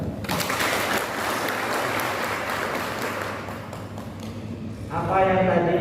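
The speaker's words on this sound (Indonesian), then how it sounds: "Tepuk tangan." An audience at the opening ceremony of an education seminar in Banjarnegara breaks into applause, a sustained crowd clapping that runs on for several seconds and swells again near the end, with voices mixed in.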